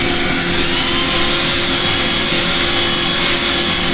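Wood lathe turning the inside of a bowl, a continuous loud scraping rub of the tool against spinning wood over a steady motor hum and dust extractor noise, with no talk.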